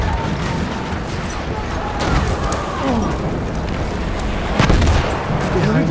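Battlefield 1 combat at Fao Fortress in Operations mode, with bursts of gunfire and a sharp crack near the end over a continuous battlefield din, while players talk.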